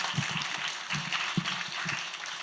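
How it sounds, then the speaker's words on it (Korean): Applause from a seated audience at an academic seminar on religious history, moderately quiet and a bit distant, an even patter of many hands with a few louder individual claps standing out. "그 신나는 발표해 주신 우리 민 박사님께 다시 한번 박수 부탁드리겠습니다"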